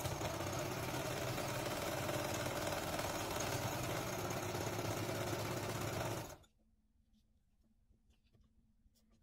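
A sewing machine runs steadily while stitching a reusable cloth menstrual pad, a close, even mechanical whirr for about six seconds before stopping abruptly into near silence.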